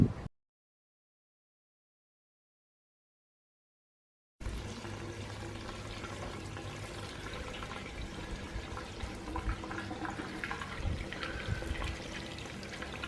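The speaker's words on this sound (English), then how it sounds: "Put some gas in it." Gasoline pours steadily into a 1984 GMC Sierra 3/4-ton pickup with a 454 big block, left sitting for 19 years, a continuous liquid splash and gurgle that starts after a stretch of silence and runs without talk.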